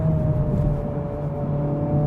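A 2023 Honda Civic Type R four-cylinder engine pulls hard under full throttle in third gear, giving a steady, loud, continuous drone with a rising tonal whine throughout.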